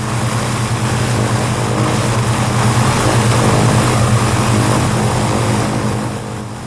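Propeller-driven airliner flying straight and level, a loud steady engine drone with a constant low hum and even propeller throb throughout.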